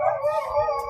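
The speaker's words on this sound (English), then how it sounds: "Sorry about the dogs barking. You can probably hear them." Dogs howling in a sustained, wavering chorus with a few yips mixed in, fairly close and steady throughout.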